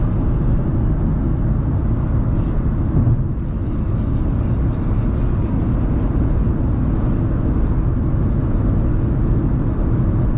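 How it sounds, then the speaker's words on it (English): Constant low road rumble and wind roar fill the cabin of a moving 2026 Dacia Sandero Stepway on a windy day, steady and unbroken throughout. "Hear the road noise, the wind noise as well."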